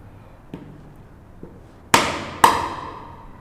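Sharp chisel strikes into the end of a wooden board while cutting dovetails, two light taps followed by two loud, ringing mallet blows with a short decay, close up and without speech.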